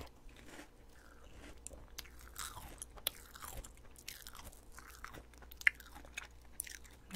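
Honey ring rice cereal with milk being eaten close up, with crunchy bites and wet chewing repeating steadily at a quiet level, no talking.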